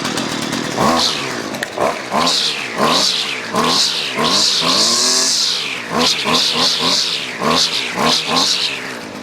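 A Husqvarna 128LD gas string trimmer revs up and down repeatedly in rapid bursts, loud and close.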